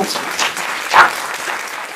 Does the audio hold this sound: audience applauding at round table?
yes